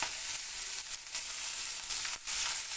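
Oil sizzling in a hot pan while cooking a Katla fish curry, a steady, bright frying hiss that runs unbroken throughout with slight swells and no talking.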